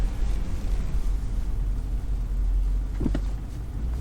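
A 2013 Alpina B7 cruises slowly on a test drive, giving a steady low engine and road rumble from inside the cabin, with a brief soft thump near the end.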